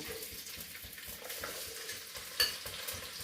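Pieces of elephant foot yam fry in hot coconut oil with a faint, steady crackling sizzle and light stirring, plus one brief sharp clink, with no talking.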